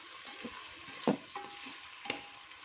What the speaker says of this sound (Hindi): अब हम प्याज और अदरक लहसुन में जो है वो अच्छे से चिकन को मिक्स कर देंगे